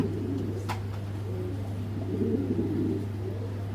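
Racing pigeons of Netherlands bloodline cooing softly nearby in a loft, a low repeated murmur over a constant background hum, with one brief sharp tap.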